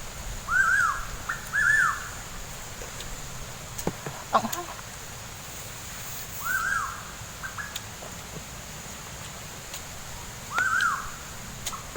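A bird gives short, repeated two-note calls at intervals, moderately near, against a faint steady outdoor background.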